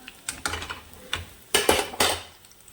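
A metal utensil scraping and tapping gongura chutney into a bowl, a series of short, close clinks and scrapes in irregular rhythm, fairly quiet with no talk.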